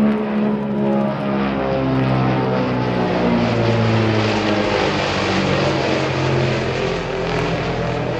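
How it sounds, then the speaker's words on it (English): An Antonov An-22 transport flies past at the Zhukovsky airshow marking 100 years of the Russian air force. Its turboprop engines, the same type used on the Tu-95, give a loud, steady droning roar with a humming propeller tone throughout. "the giant AN-22, powered by the same engines as the Tu-95"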